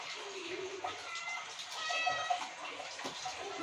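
A cat lets out a drawn-out meow, moderately close, amid muffled background chatter and household noise.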